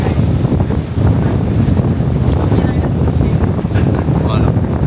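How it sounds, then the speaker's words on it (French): Strong wind buffets the microphone aboard a New York ferry near the Statue of Liberty, a loud, continuous rushing roar with gusty low-end rumble and no speech. "Un vent de fou furieux."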